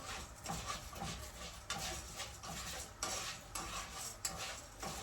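Meat is roasted in a hot pan while a utensil scrapes and stirs it, producing steady frying hiss with irregular clanks against the pan.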